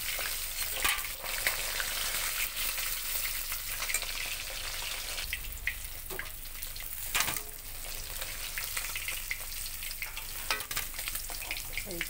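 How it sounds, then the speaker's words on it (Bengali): Fish pieces fry in hot oil in a pan for a sour mango fish curry, giving a steady close sizzle and crackle with occasional stirring and spatter bursts, no talking. "এই যে এক পিঠ উল্টে দিলাম, এবার একটু ভেজেই তুলে নেব।"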